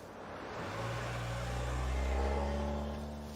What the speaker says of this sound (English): I think I hear Shackelford's car